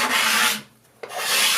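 A sharpened card scraper pulled across wood, raising clean shavings: two close, raspy scraping strokes separated by a brief quiet gap, with no voices.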